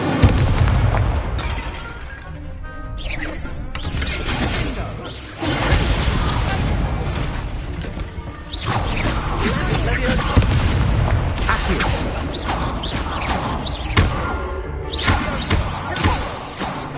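Booming fire blasts from the Incendio spell in Hogwarts Legacy, loud and dense, with repeated heavy impacts and crackling bursts over constant game noise and a voice throughout.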